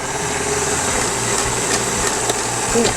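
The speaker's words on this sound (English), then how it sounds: "we will turn the mixer off for a minute and scrape down the sides of the bowl" An electric mixer runs steadily through cake batter for an apple honey walnut cake, a constant motor whir with faint tonal hum lasting throughout at close range, with no voices.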